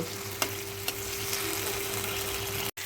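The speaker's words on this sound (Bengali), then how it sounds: "দিয়েই কষাতে থাকবো এইভাবে আস্তে আস্তে পুরো কষিয়ে নেব" Spice masala sautéing in a pan for a vegetarian lentil fritter curry, a steady soft sizzle with a couple of sharp scrape knocks from stirring near the start, heard alone.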